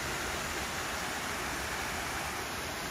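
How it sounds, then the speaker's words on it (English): A waterfall on rural land, swollen after heavy rain, pours as a steady broadband rush of water, even and unbroken, heard quietly with no voices. "I told you about that waterfall on the property."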